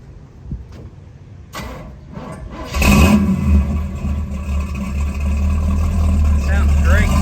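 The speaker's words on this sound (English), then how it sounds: "Good sounding exhaust. It's got that thump everybody likes." A 1969 Chevrolet Camaro SS 396 V8 convertible cranks over and fires, settling into a loud, deep, steady idle with a thumping exhaust rumble close by, with some people talking faintly before the start.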